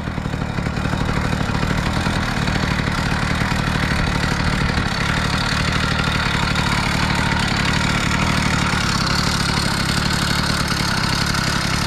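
A Kent Sea Change coaster-brake bicycle fitted with an 80cc motor runs steadily during a test ride, its small engine buzzing loud and close with a constant rattling drone.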